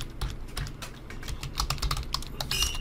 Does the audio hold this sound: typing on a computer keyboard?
yes